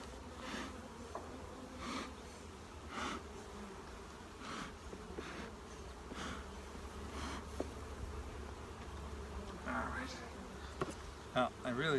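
Agitated honeybees buzz around an open hive, a constant close drone with individual bees zipping loudly past the microphone now and then, and a faint voice murmuring in the background.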